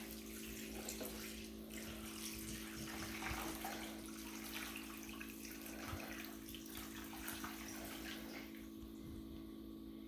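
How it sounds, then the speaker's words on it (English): Homemade vegetable stock pours steadily through a strainer into a big container, a quiet continuous trickling wash of liquid with a faint low hum underneath. "I'm just going to pour the rest of the stock through the strainer."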